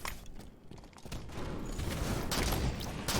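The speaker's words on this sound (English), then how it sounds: "Oh, and a nice quick double shot." Sniper rifle fire in a competitive video game match, a quick double shot: two sharp cracks in close succession over low background game noise.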